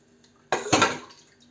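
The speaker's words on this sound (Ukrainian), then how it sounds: "Ось так ми заливаємо в кожний слоєчок маринад." Marinade is poured into jars packed with tomatoes, a short liquid splash and gurgle lasting about a second, close and alone.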